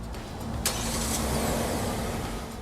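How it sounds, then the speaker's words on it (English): A Kia car's engine starts remotely from the key fob, with a brief catch near the start and then a steady mid-range idle hum that fills the short clip at moderate loudness. "now you know how to remote start your car"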